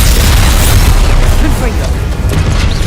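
A Confringo explosion spell goes off in a Harry Potter video game, a loud, dense booming blast filling the short moment, with a voice heard over the noise.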